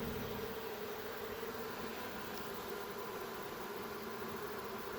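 Dense, steady hum of roughly 500 honey bees in a small colony given an insulated lid for winter, a continuous close buzz with no talk.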